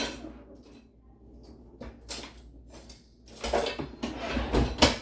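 Kitchen utensils and cutlery clatter and clink as someone rummages through a drawer of pots and silverware hunting for a knife, with sparse knocks building to a louder burst of metallic rattling toward the end.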